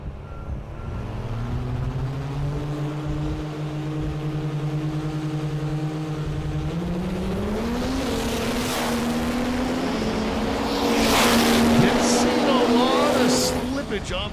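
A 2006 Dodge Ram diesel race truck runs at an NHRDA drag race in Ennis, Texas, its engine droning steadily and then climbing in pitch as it revs, loud and close, with an announcer talking over it.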